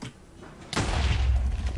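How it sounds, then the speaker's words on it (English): TNT firework going off in Minecraft, a sudden sharp blast after a quiet moment, followed by a sustained low rumbling roar that stays loud to the end, with no talk. "It looks like the firework went off too soon, though."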